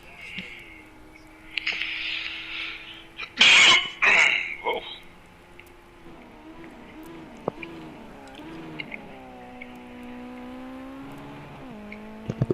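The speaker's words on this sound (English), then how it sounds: "You can hear using those gears to try and get that car slowed down with the brakes." A GT race car engine drops and climbs in pitch through quick downshifts while braking in wet conditions, heard at a distance under a commentator's voice.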